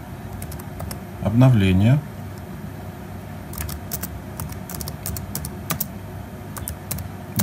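Keys on a laptop keyboard are typed in quick, light bursts as a search query is entered in a browser, with one brief louder swept sound partway through and someone speaking near the end.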